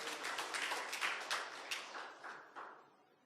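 A church congregation at a Sunday worship service in Bali claps together, a dense wash of applause that is loud at first and then fades and thins over a few seconds, with no talk on top.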